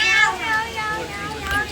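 A cat meows up close, a few drawn-out, wavering cries one after another, with a child nearby reaching out to touch it.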